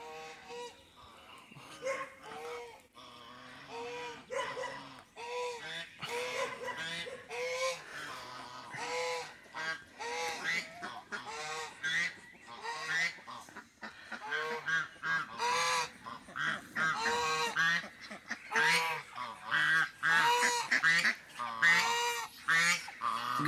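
Geese on a farm honk loudly and continuously, overlapping calls in a noisy, agitated chorus close by, with a few ducks or other fowl mixed in.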